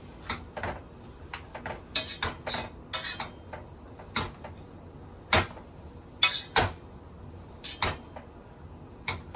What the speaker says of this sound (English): you're going to take your potato masher and just mash them